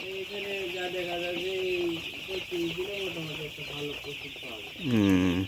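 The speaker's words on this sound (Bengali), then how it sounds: "এটা পঁয়ত্রিশ দিনের পঁয়ত্রিশ ব্রয়লার মুরগি" Broiler chickens, 35 days old, cluck and chatter continuously in a farm shed. A louder, rising squawk bursts out near the end, while a steady high hiss runs underneath throughout.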